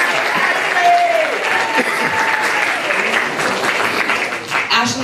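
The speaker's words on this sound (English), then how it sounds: "Everybody give a big round of applause to Ashley" A room full of students bursts into loud, sustained applause and crowd noise for a student council candidate at a debate, with dense clapping throughout and a few voices and cheers mixed in.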